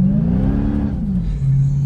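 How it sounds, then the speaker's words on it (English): A supercharged 2020 Dodge Charger Hellcat Widebody engine revving up close, a loud steady low drone whose pitch swells and then eases back down. "I love the way that the supercharger sounds under the hood of a Hellcat."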